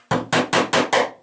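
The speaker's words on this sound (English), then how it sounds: "Oh, I meant the hammer. The 16 ounce hammer." A 16-ounce hammer drives nails, five sharp, loud, evenly spaced strikes in quick succession, each a close metallic thwack that rings briefly before the next blow.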